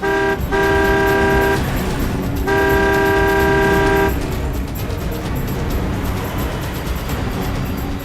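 A car races along a road during a pursuit, its horn blaring in two long steady blasts, loud and close over constant engine and road roar, which carries on alone after the horn stops.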